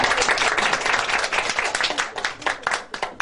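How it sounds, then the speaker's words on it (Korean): Audience at a Korean lecture event gives dense, continuous applause with many overlapping hand claps, fairly close and full throughout, tapering slightly near the end. "두 분께 다시 한번 박수 부탁드립니다."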